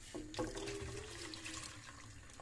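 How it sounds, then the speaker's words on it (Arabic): Hot water poured into frying Tunisian molokhia with beef, a steady liquid gush and bubbling that runs close and fairly quiet for a couple of seconds, with no talk. "نصبولها الماء بالكدا، نحركوها"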